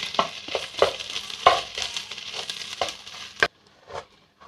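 Ginger-garlic paste being stirred in a hot pan, heard as intermittent scraping and shuffling strokes over a soft frying sizzle, with a sharper clack near the end before it quiets.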